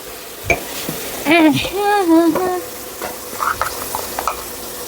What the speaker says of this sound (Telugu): ఇప్పుడు ఇందులో డైరెక్ట్గా మనం కడిగి పెట్టుకున్న మటన్ వేసేసుకున్నాం